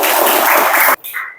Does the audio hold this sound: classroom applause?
yes